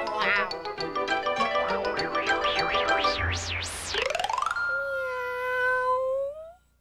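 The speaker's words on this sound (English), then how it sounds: "You're such a crazy cat." A cat meows several times in a rising, wavering series, then lets out a long, drawn-out yowl that slides upward, close and fairly loud.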